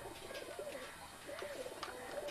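Pigeons at a Bangladeshi teddy pigeon market coo softly in a few rolling, repeated calls, faint and fairly close, with no talk over them.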